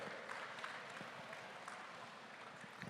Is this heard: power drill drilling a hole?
no